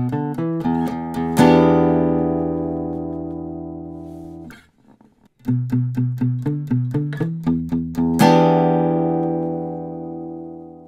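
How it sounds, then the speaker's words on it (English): Electric guitar playing a short plucked phrase twice, first with notes ringing out openly and sustaining, then again with palm muting, so the notes sound clipped and damped. Each note is picked distinctly at a steady pace, close and clear, with no talking. "here's a short phrase that I'll play without palm muting and then with palm muting"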